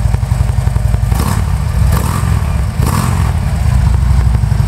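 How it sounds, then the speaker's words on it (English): A 2012 Harley-Davidson Road King with Stage 1 tuning and Vance and Hines exhaust idles and revs loudly, with a deep, rumbling exhaust note and a few sharper bursts of throttle. "it gives the bike a much deeper sound"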